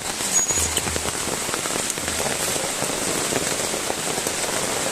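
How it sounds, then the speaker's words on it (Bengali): Heavy rain pours down steadily and close by, a dense, unbroken hiss of drops striking surfaces that lasts throughout with no voices. "খুবই বৃষ্টি পড়ছে, ফোন ভিজে যাচ্ছে আর কি"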